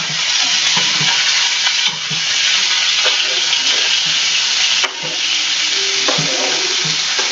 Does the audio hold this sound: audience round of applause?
no